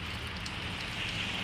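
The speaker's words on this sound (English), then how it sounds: "this rain's doing decent there" Steady rain falling during a thunderstorm in Pittsburg, Kansas, a dense even hiss of drops on surfaces filling the whole moment without any voices.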